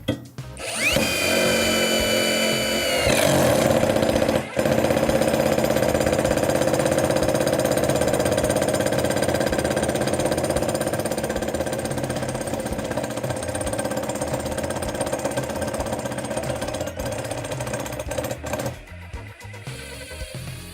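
Dnipro M DTD-201BC cordless impact driver hammering continuously at close range, loud and dense, starting with a rising whine, then rattling steadily for about twenty seconds with brief knocks before winding down.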